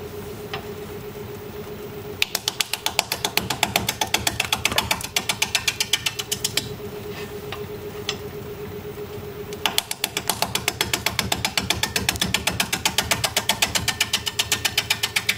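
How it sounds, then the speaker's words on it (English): A wood lathe spins at 470 RPM while a sharpened 5/8 inch bowl gouge cuts green box elder at about 30% moisture, giving a steady motor hum and a rapid, regular ticking chatter that stops and restarts during the cut. "going to be turning at 470 RPM, 5/8 inch bowl gouge all sharpened up"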